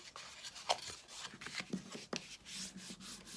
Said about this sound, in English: And I like to burnish it so you're going to give that crisp edge to it.